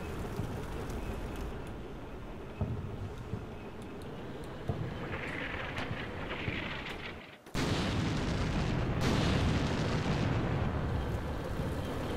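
Sustained artillery barrage in the modern-warfare game Combat Mission: Shock Force, rumbling impacts and crackling detonations, with a brief dropout before an even louder, denser wave of explosions.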